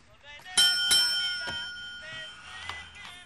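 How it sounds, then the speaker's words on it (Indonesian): An old man presses a bell in a Breaking Bad scene, sounding several sharp metallic dings with ringing tails, close by and mixed under voices talking. "pria tua itu menekan bel yang membuat Tuco teralihkan"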